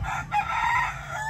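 A rooster crowing, one loud sustained cock-a-doodle-doo in a gamecock yard, filling the whole short moment up close with a break partway through.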